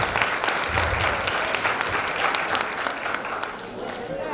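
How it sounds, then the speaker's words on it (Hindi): Parents in the audience at a school annual function clap loudly and steadily for their children for around four seconds, with some voices mixed into the applause. "ज़ोरदार तालियां बजाएं।"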